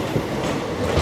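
Maveli Express rolling past as an Indian passenger train, a steady close rumble of wheels and carriages with faint rhythmic clatter throughout, no voices over it.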